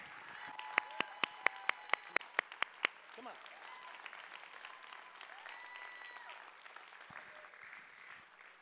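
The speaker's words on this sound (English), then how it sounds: "Somebody clap your hands." A church congregation at a Palm Sunday service claps in sharp, evenly spaced beats that fade into scattered applause and murmuring, with a preacher's voice over the room.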